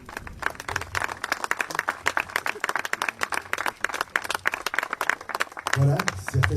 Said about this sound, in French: d'applaudir très très chaleureusement l'artiste Dimitri Fagboun